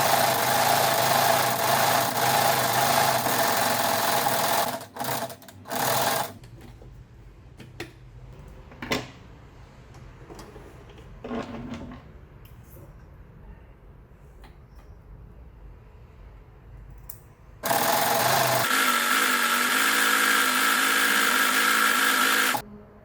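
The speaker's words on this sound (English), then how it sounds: "when you're sewing, nudge the mesh fabric into the bias tape because they tend to slip out quite easily" A sewing machine stitches bias tape onto a mesh fabric divider, running in loud, steady motor bursts at the start and again near the end, with quieter handling between.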